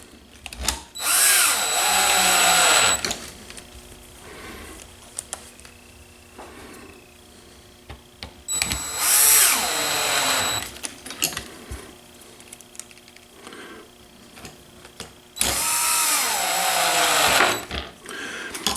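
A power driver snugs down 3mm by 10 bolts on an RC helicopter tail transmission in three loud, close bursts of whirring, each a couple of seconds long, separated by quiet handling clicks.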